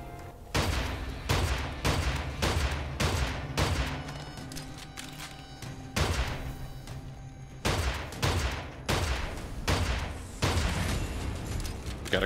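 Gunfire in the shooter Immortal Redneck: loud, rapid bursts of shots in rhythmic volleys, broken by short pauses, with no talking.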